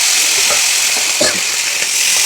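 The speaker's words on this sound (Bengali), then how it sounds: "কালো জিরে পুরোনো কালো জিরে দিয়ে বেগুন একটু কেটে রেখেছি বেগুনটা দিয়ে দেবো" Eggplant pieces fry loudly in hot oil with black cumin seeds, a steady dense sizzle with occasional stirring scrapes, close and continuous with no talking.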